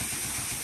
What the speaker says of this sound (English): Let that compressor cut off.